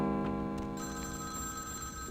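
A telephone rings in the video game Vampire: The Masquerade – Bloodlines, a short electronic ring that sounds clearly on its own.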